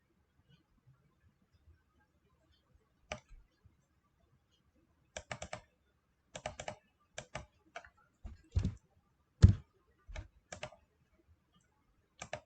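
Computer keyboard keys clicked in short scattered bursts, light taps and a few firmer presses separated by quiet gaps, faint and close, with no talking.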